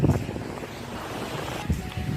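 Surf washes onto a Florida beach in a broad, steady roar mixed with wind buffeting the microphone, with a couple of stronger gusts near the start and end.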